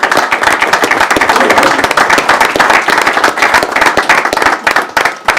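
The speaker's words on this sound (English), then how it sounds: "let's give a round of applause to the family of the Montoya family" Loud, dense applause from an audience at a regular city council meeting, honoring the Montoya family, with rapid overlapping claps sustained throughout and no talking.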